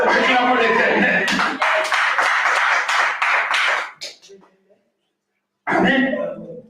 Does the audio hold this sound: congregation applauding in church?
yes